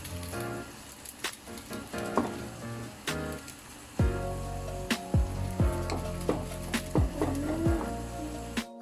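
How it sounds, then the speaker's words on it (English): A spoon stirs cheese into a casserole cooking over a low flame, giving repeated scrapes and knocks against the pot over a steady soft sizzle, close and fairly loud, with no voices. "you have to cook it on very low flame, and slowly and gradually you mix the cheese in it"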